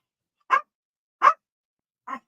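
Three separate dog barks, close and fairly loud, spaced out with steady pauses between them and nothing else audible.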